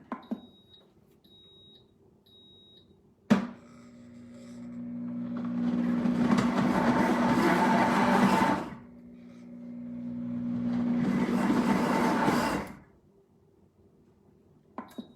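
Soup maker blender heating and pureeing soup, opening with a few short electronic beeps, then a loud whirring grind that runs for several seconds, pauses briefly, and starts again before stopping.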